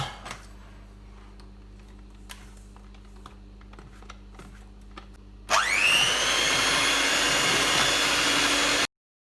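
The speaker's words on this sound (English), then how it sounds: "you can then use your electric whisk to beat this together to make a nice, smooth, even consistency" An electric whisk starts up partway through and beats Viennese whirl mixture in a bowl, a loud steady whine close by after earlier quiet taps and clinks, then cuts off sharply.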